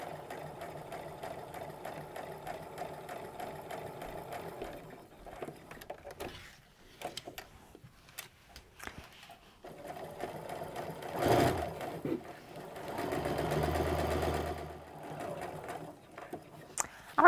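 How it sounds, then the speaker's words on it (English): A sewing machine stitches the waist tie of a fabric apron in short and longer runs, a close, quiet, rapid mechanical whirring that pauses and restarts, with someone talking between bursts. "you can start stitching down to pivot on the other side"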